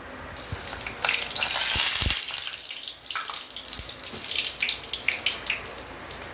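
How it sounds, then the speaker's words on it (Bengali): Breadcrumb-coated pieces for a Lucknow dish frying one by one in hot oil, a steady bright sizzle with crackling spurts and a few soft knocks of the pan, no talking. "এবার এগুলোকে এক এক করে ফ্রাই করে নেব"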